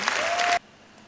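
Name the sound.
applause for the young women organisers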